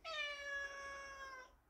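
A cat gives a single drawn-out meow lasting about a second and a half, clear and alone against a quiet background.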